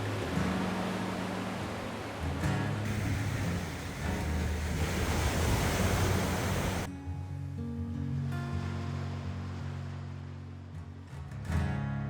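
Ocean surf at Uluwatu beach in Bali, watched from a spot up above, makes a steady broad wash of waves with buffeting wind noise across the microphone, continuous and fairly full throughout.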